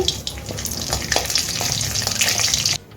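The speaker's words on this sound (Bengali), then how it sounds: "এলাচ দারচিনি দুটো তেজপাতা এখন আমি ফোড়নটা ভেজে নিচ্ছি" Whole cardamom, cinnamon and two bay leaves fry in hot oil as the tempering for prawn malai curry, giving a dense, continuous close sizzle with small crackles that stops abruptly at the end.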